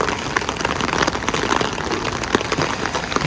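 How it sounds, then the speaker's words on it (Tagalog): Steady rain falls outdoors during a flood, a dense broadband patter with scattered sharper drops, close and constant throughout with no voices. "Sarap ng ulan, ano?"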